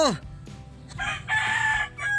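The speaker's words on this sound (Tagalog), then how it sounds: "Ayun, manok." A rooster crows loudly nearby, one long drawn-out call followed by a second burst, with faint background noise between, in the Philippines.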